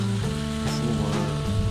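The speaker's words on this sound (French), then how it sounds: "il pleut pas mal et il y a de l'orage" Steady rain pours down during a thunderstorm near Stavanger, Norway, a dense continuous hiss of drops on surfaces with a low rumbling underneath, loud and close throughout the short stretch.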